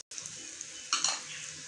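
Thick chana dal and milk halwa with dry fruits stirred in a pan, a steady close scraping and soft sizzle that swells midway as the spoon drags through.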